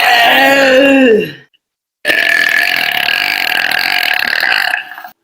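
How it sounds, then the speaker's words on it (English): A woman lets out two long, loud, deep burps, one after another with a short silent gap, each rumbling and sustained for over a second, very close and with no talk. "This is my mom burping right now."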